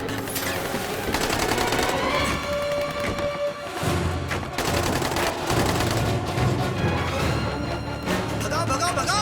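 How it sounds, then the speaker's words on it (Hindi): Rapid bursts of gunfire crackle amid a loud, chaotic mix of engine noise and shouting voices during a vehicle chase in an action film, with heavy thuds throughout. "ओए गोली चला रहे हैं ये लोग तो।"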